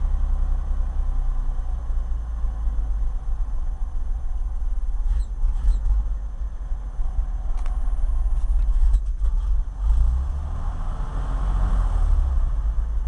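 A 1965 International R 185 truck engine runs cold with throttle given, a steady low rumble and mechanical clatter holding throughout at close range, swelling slightly toward the end.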